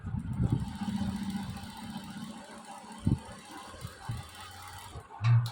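A sewing machine stitching lace onto a neck design gives a mechanical hum with a low rhythmic chatter, broken by small clicks and a thump near the end.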